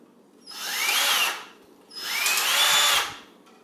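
Two bursts of a whirring power drill winding a bass guitar string, each about a second long, revving up and winding down with a short pause between them.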